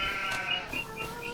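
Farm goats bleating close by, a wavering nasal cry with a shorter call after, loud and alone with no talk.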